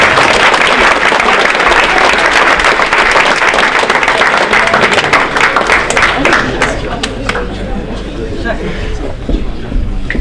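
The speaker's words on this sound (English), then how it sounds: "Round of applause for our individual academic award winners." An audience at a winter varsity athletic awards event applauds academic award winners with loud, dense clapping that thins into scattered claps, with crowd chatter mixed underneath.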